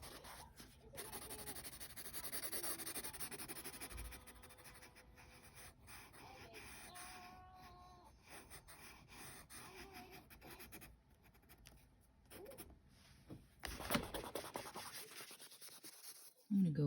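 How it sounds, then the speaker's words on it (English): A pencil eraser rubs back and forth on drawing paper while a cloud drawing is being corrected: soft, close scratchy strokes in uneven bursts, with brief pauses between passes. "with my eraser here."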